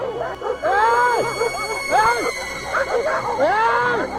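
Several dogs bark and yelp close by at a passing motorcyclist, overlapping in agitated bursts, with high whining yips mixed in.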